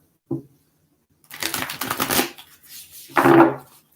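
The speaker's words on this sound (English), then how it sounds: "it's a couple more shuffles here" Tarot cards being shuffled during a monthly general reading, heard as a brief snap followed by two bursts of riffling and flicking, close and moderately loud with a short pause between them, no talking.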